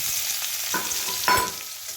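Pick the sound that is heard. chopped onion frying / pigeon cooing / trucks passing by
chopped onion frying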